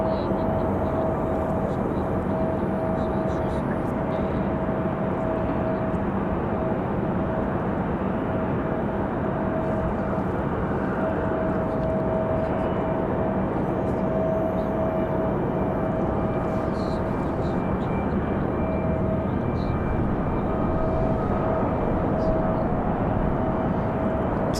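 A Frontier Airlines jet, flight 3057, on final approach at Raleigh-Durham International Airport gives a continuous distant drone with a thin steady whine running through it, unchanging throughout.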